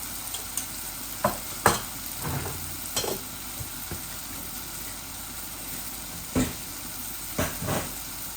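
Onion frying with dried fish and spice powders such as curry powder, a constant close hiss punctuated by several sharp scrapes and clanks of a spoon stirring the pan, no voices.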